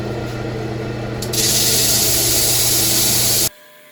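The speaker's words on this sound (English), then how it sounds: "I'm gonna go ahead and clean them up on the sander." A sander runs on glued-up wood pieces for a chevron woodturning blank, a loud steady whirring hiss that intensifies as the wood meets the abrasive, then cuts off abruptly into near silence.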